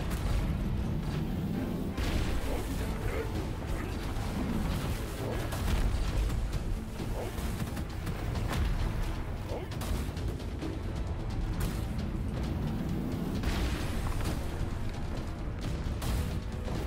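Grenades thrown in the video game Gunfire Reborn burst again and again in loud, booming blasts, layered with rapid gunfire and dense game noise throughout, without any talking.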